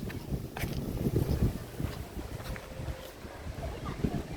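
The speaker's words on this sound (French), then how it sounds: "Parce qu'il y a pas mal de vent quand même." Seaside wind on a beach with coconut palms, surf and windsurf boards nearby: a steady, fairly loud gusty rush with buffeting low rumble against the microphone, no clear talk over it.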